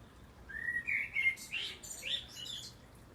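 A blackbird sings a few faint, fluttering high phrases with short pauses between them, distant against quiet outdoor background, no voices.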